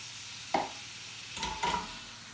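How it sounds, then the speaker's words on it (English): Cream poured into a hot pan of steak au poivre sauce made with Welsh black beef, giving soft sizzles and stirring scrapes: one short burst, then two more close together over a quiet background. "add a little bit dash of cream."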